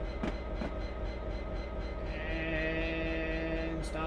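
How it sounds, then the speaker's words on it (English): A train in Train Simulator: Great British Railway Journeys brakes toward a stop at Gravesend Station, with a low rumble, a few sharp clanks early on and a sustained high brake squeal building in the later half. "Let's bring the train to a stop now."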